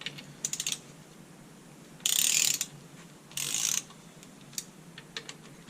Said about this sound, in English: you want to make sure that these are getting torqued down evenly